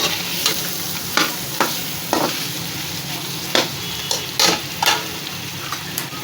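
Ginger garlic paste sautéing in a pan for dhaba-style dal, a steady sizzle and fry hiss broken by repeated stirring scrapes, close and fairly loud with no talking.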